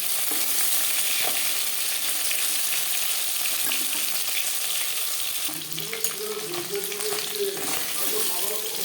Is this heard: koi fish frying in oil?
yes